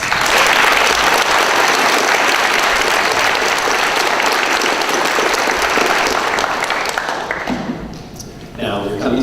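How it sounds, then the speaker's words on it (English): Loud, sustained applause from the audience at a school graduation ceremony fills the space, fading out near the end as a voice begins to speak. "So let's give them another round of applause."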